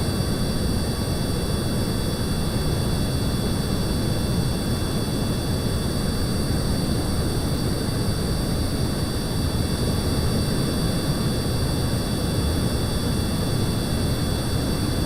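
Steady, loud roar of an air-breathing thruster engine in Create Aeronautics, a continuous even rush of noise with faint tonal whine above it and no pauses.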